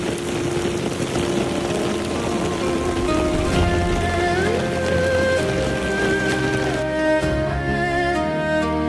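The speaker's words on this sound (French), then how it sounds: "Il pleut pour rafraîchir. Il pleut." Steady rain patters on surfaces at the Banteay Srei temple in Cambodia, a dense continuous hiss throughout, with faint tonal music or background sounds mixed in and no talking.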